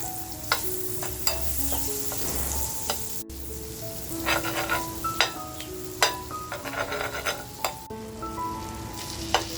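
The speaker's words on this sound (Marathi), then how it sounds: "बाजूला मी तवा तापत ठेवला होता छान असं बटर टाकते" Butter sizzling and frying on a hot tawa, a steady close crackle with occasional scraping clinks of a spatula against the pan, heard alone.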